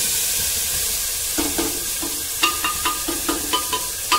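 Onion-garlic paste made from roasted onion hits very hot oil in a pan for mutton rassa, raising a steady close sizzle, with a run of clattering stirring strokes in the second half.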